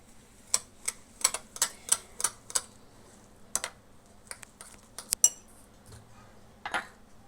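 Semolina batter for dhokla being stirred in a bowl: a series of sharp, light clicks and taps of a utensil against the bowl in an uneven rhythm, close and fairly quiet.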